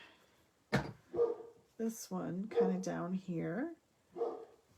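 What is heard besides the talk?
dogs barking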